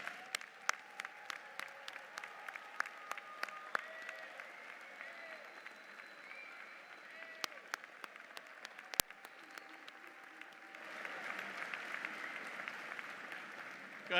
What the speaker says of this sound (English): And graduates, give your loved ones a round of applause.